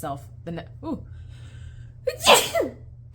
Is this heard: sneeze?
yes